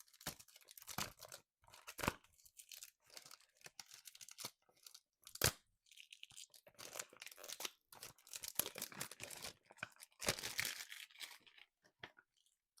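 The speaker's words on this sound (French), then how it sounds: "Donc, on va le déballer ensemble." A hair product's plastic and paper packaging is torn open and crumpled close up. Crisp crinkles, rips and sharp crunches come in dense, uneven bursts, with no talk.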